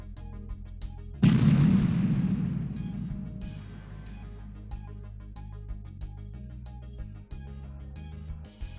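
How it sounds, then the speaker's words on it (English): Milk powder dust explosion set off under precautions: one sudden loud boom whose roar swells and fades over about two seconds, followed by quieter ringing rumble and scattered faint clicks. "I was able to make milk powder explode"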